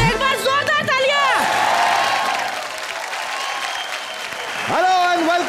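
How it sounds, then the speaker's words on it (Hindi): A crowd claps and cheers with whoops, while a voice calls out over the start and end of the applause. "एक बार जोरदार तालियां"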